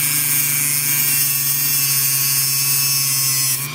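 A Dremel rotary tool fitted with a cut-off blade whines steadily at high speed while slicing a carburetor part along a marked line, loud and continuous throughout before cutting off abruptly at the end.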